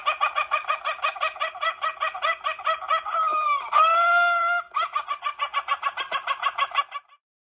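Chickens cluck in a rapid, steady series, broken midway by a rooster's drawn-out crow, then clucking resumes before stopping abruptly; loud and close with no talking.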